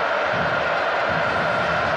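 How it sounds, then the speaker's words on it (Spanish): Stadium crowd celebrating Uruguay's World Cup qualification, a dense, steady roar of cheering and applause filling the space at high volume without letting up. "La gente festeja, el estadio se viene abajo."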